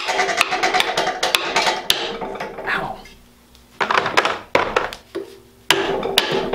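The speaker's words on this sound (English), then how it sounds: "stick it in your ports here, give it a little whack, try not to break your hammer" Series of sharp wooden whacks from a hammer striking an oak piece wedged in a Jeep 4.0 cylinder head's ports, irregular and close, with short pauses between bursts.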